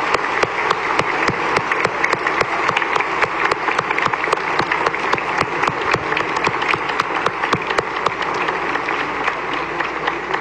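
A church congregation at a Sunday Mass breaks into sustained, dense applause, many hands clapping steadily and loudly for the full length with no pause.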